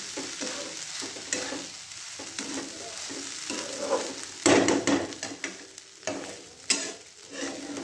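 Barnyard millet (bhagar) sautéed with salt in a pan, a steady soft sizzle with scraping stirring strokes at irregular intervals, one louder burst of frying midway, no voices.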